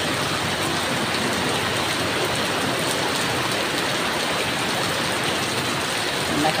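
Heavy rain pours down with strong wind during a thunderstorm, a dense, steady roar of water that holds at one level from start to finish, with no break and no voices.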